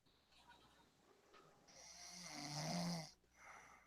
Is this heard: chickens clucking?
no